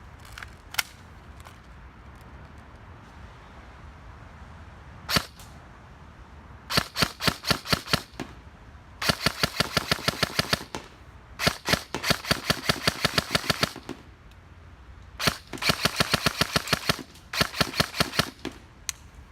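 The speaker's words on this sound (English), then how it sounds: "first fire mode demonstration, semi-auto." A Classic Army airsoft gun shooting 0.20 g BBs on semi-auto gives sharp, close snapping shots. A few single shots come first, then quick, even strings of rapid shots separated by short pauses.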